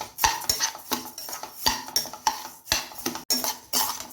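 Rice dry-roasted in a pan for usili upma, a spatula scraping and clinking against the metal in a steady irregular rhythm of close, crisp strokes with no talking.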